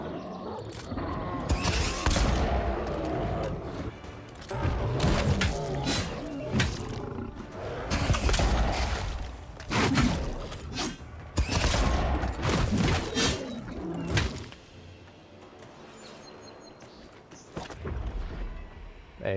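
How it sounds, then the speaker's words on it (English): Flintlock pistol shots in the Avowed game come as a string of loud, sharp cracks with rumbling tails, irregularly spaced across the stretch, mixed with game rumbles and no talking. "It's a very nice sounding flintlock."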